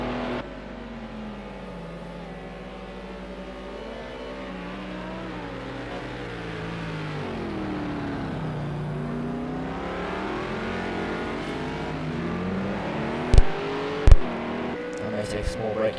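Race car engines in a sim racing game at Hockenheimring hold one continuous tone that rises and falls with the revs, growing slightly louder, with two sharp clicks near the end.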